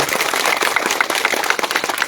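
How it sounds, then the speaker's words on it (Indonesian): An audience claps in steady, dense applause at a political campaign rally, loud and sustained across the short stretch. "Tepuk tangan dong"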